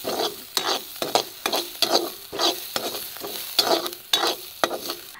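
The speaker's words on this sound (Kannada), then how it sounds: "ಇನ್ನು ಇದನ್ನು ಚೆನ್ನಾಗಿ ಫ್ರೈ ಮಾಡಬೇಕು" Asafoetida and curry leaves frying in oil for temple-style tomato saaru, a crackling sizzle pierced by rhythmic scraping stirs roughly every half second, close and lively, with no talk.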